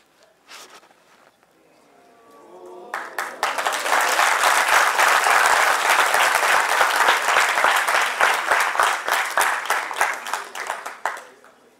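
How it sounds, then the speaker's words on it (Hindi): Loud, dense applause from a seminar audience of CA students, building over a couple of seconds into sustained clapping that holds steady before tapering off at the end. "जोरदार तालियां"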